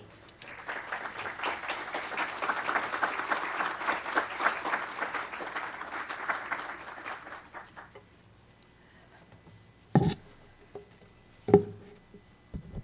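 Audience applause welcoming Congresswoman Ilhan Omar onstage at a religious freedom event, steady dense clapping from a crowd for about eight seconds, then fading out, followed by a couple of isolated thumps.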